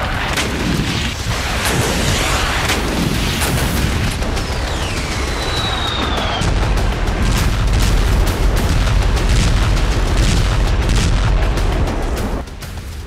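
Continuous heavy rumble of Russian bombardment in Ukraine, with repeated low booms and bursts blending into a dense, loud roar that stays steady for most of the span before dropping off near the end.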